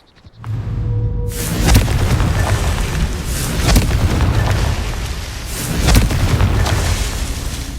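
Confringo fire-spell blast in the Hogwarts Legacy video game, a loud booming explosion that rolls into sustained roaring, crackling fire with repeated heavy bursts layered over it.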